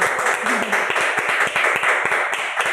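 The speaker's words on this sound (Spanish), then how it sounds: "Y un fuerte aplauso para ti." Applause from a small group, distinct individual claps in a quick, uneven rhythm, fairly close and moderately loud, continuing for a few seconds.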